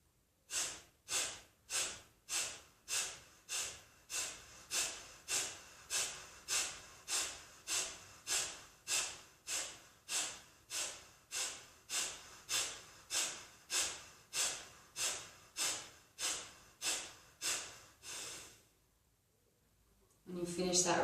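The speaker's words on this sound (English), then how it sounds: "going to begin with a round of Kapalabati. We're just going to start with 30 breaths." Kapalabhati yoga breathing during a winter detox flow session: a steady train of about thirty sharp, forceful nasal exhales at an even, quick rhythm, close and clear, ending in a brief quiet pause and then a longer breath.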